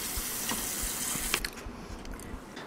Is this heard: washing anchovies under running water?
yes